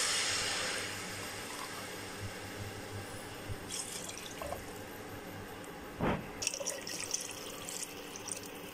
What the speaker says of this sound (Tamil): ஸோ இதோட 5 கப் நம்ம தண்ணி ஊற்றியாச்சு.